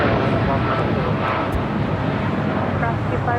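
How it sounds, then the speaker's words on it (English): A United Boeing 787 Dreamliner takes off from runway 25 right at LAX, a loud continuous jet engine roar filling the whole clip without letup. "United Dreamliner taking off 25 right."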